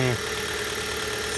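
A cold Hyundai G4FC engine idling just after a start, with light knocking and injector ticking; a steady close-up mechanical hum continues evenly after a brief louder moment at the start.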